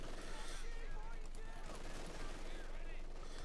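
MG42 machine gun fire from a Company of Heroes 2 match sounds as rapid, crackling bursts of battlefield gunfire beneath continuous game noise.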